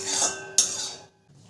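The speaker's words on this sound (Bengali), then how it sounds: "খুন্তি দিয়ে ভালো করে তেলটা কড়াইয়ের গায়ে মাখিয়ে নেব।" A metal spatula scrapes around a kadai over a gas flame, spreading white cooking oil up its sides in two quick, bright metallic strokes, close and clear, then brief quiet.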